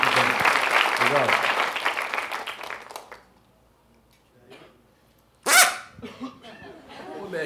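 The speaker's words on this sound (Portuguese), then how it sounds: "Aplausos para o grande amigo aí" Applause for a guest at a master class with Hermeto Pascoal, loud and steady at first, then fading out after a few seconds, followed by a quiet gap and a brief sharp burst of noise.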